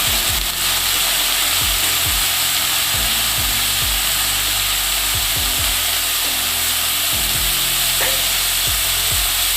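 Carrots and other chopped vegetables for a Kerala thoran fry in a pan with salt and turmeric, a steady loud sizzle running throughout while a spatula scrapes and stirs in repeated low knocks.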